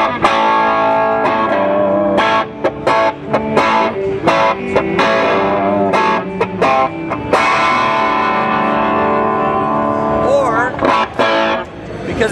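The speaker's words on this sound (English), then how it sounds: "you can get some nice power amp distortion." Electric guitar played through a Soldano-designed Jet City amplifier with the master volume up for power amp distortion, heard at the Winter NAMM 2010 trade show: thick, saturated chords and riffs ringing loud and continuous for the whole stretch.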